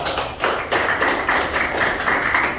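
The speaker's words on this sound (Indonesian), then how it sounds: "tepuk tangan untuk semua." A crowd claps together, a steady dense patter of many hands filling the room for a few seconds.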